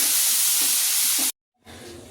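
Loud, close hiss of frying in a kadai after salt and turmeric go in. It cuts off abruptly partway through, then returns softer and steady.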